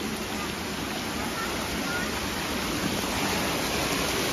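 Creek water runs steadily along a property line, a constant broadband rush like a small stream or cascade, close and loud, filling the whole stretch without pause.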